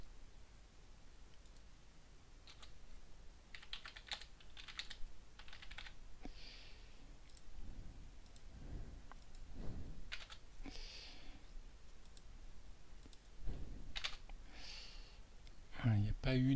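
Typing on a computer keyboard while editing recognized text in an OCR program, scattered bursts of key clicks alongside a French-speaking voice.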